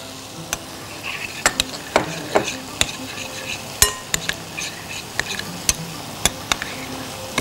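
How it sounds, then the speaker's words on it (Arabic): Food stirred in a pan with olive oil, with a steady sizzle under repeated sharp scrapes and taps of a utensil against the pan, close and fairly loud. "وبنقلب الكلام الجميل ده مع بعض"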